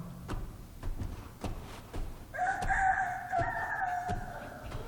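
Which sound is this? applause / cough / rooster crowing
rooster crowing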